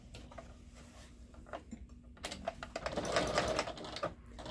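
A sewing machine stitches a French seam on fabric, starting with faint scattered ticks and then running in a quicker rattling burst near the end, close and fairly quiet.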